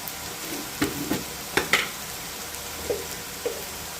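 Onions with turmeric frying in a pan for egg bhurji, heard as a quiet, steady sizzle broken by several scattered scrapes and taps of stirring.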